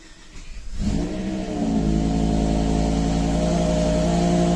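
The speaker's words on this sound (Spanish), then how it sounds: "Tenemos un cool start. Pisamos freno, neutro. Le damos un toque a la llave." A BMW M5 E60 engine cold-starts with a short cranking sound. It catches into a loud, steady high idle that holds close and continuous to the end.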